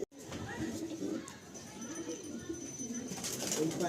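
Pigeons at a loft of tournament-quality birds coo faintly in low, murmuring rolls, with a hum of distant voices and activity underneath.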